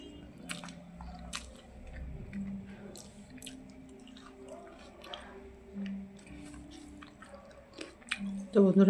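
Someone biting and chewing a very spicy green chili, soft crunchy bites and wet mastication sounds spread through the clip, close and fairly quiet, with a voice murmuring at moments and a louder thump at the end.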